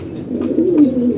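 A pigeon, an orphaned young bird among a kept flock, coos in one steady, low, throaty call, loud and close with no talk over it.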